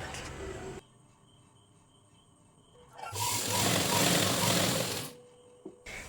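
A sewing machine stitches a blouse in one loud, steady run of about two seconds, with quieter stretches before and after.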